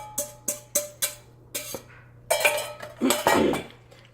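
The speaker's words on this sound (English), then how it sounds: "And you mix it so it can loosen up a little bit" A spoon clinks sharply against a bowl in a quick series of taps, then scrapes and churns as beaten eggs with sugar, pepper and adobo are mixed into macaroni for baked macaroni and cheese.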